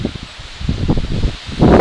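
Strong gusting wind buffets an exposed mountain ridge at about 3,500 feet in the Presidential Range, a loud broadband roar that surges and swells toward the end, with no voices.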